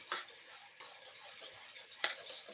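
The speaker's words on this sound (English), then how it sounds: "I'm gonna whisk that again." A whisk stirs white cheese sauce in a pot for lasagne, tapping and scraping against the metal in quick, irregular strokes. The sound is faint and close, with no talking.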